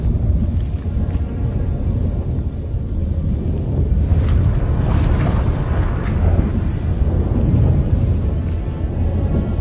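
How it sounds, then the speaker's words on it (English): A thunderstorm in The Witcher 3, with a dense steady roar of wind and rain and deep rumbling swells of thunder, loud and continuous and without speech. "That a storm?"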